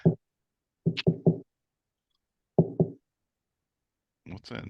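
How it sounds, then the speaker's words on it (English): Sharp, hollow knocks come in uneven clusters of one to three, close and moderately loud with silent gaps between them, followed by a brief muffled rustle at the end. "What's that knocking sound?"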